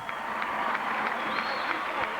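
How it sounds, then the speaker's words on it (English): A basketball crowd gives a fouled-out player a standing ovation at a 1987 championship game, with faint steady applause and crowd noise that sounds distant and thin. "Heberlin gets a standing ovation from the crowd."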